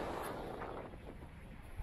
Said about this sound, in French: je vais sortir du vent